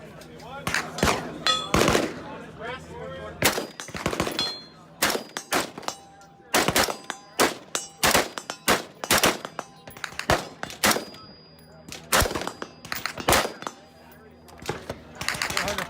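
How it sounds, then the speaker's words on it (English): Rifles firing on an outdoor range at a SHOT Show media day, a dense string of sharp loud cracks, some rapid and some spaced, with someone talking between shots. "So we're going to try 2 different rifles here."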